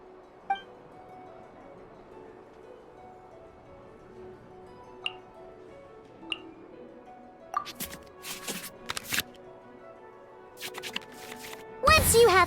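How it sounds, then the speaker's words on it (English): Cards shuffle back into the draw pile in a digital dice-and-cards battle game, heard as a few short papery bursts near the end over quiet background music. "we can select any number of cards in our hand to shuffle back into the draw pile, and then draw the same number of new cards"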